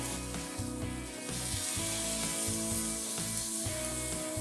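Food sizzles steadily on a Vulcan gas charbroiler grill, a continuous close hiss of searing under a constant broad background roar, with no talking.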